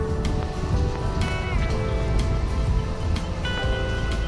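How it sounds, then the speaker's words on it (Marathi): Rain falls steadily on the roadside along the Mumbai–Nashik highway near Badlapur, with dense patter and occasional sharper drops striking the camera, all under a constant rushing background. "पाऊस पडतोय अजून सुद्धा आपल्या कॅमेऱ्यावर थेंब पडत आहेत."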